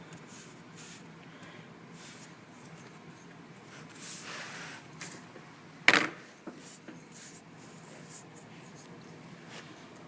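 A pen or pencil drawing lines on paper while sketching a caterpillar, a soft scratchy stroking that runs faintly through the stretch, with one sharper scrape or tap near the middle and quiet room noise around it.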